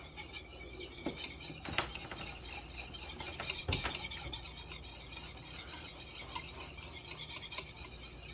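Lemon juice is stirred into a mixture in a bowl, giving a steady low scraping and rubbing sound, with one brief louder clatter partway through and no voices.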